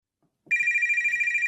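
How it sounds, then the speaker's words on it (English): A telephone bell rings suddenly after a brief silence, with a loud, bright, trilling tone that holds steady and close. "the phone rang."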